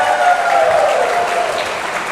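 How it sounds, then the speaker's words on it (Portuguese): Church congregation at a women's ministry gathering giving a loud, sustained round of applause, dense clapping throughout with a faint voice or tone over it. "Dá uma salva de palmas para o irmão, ô glória!"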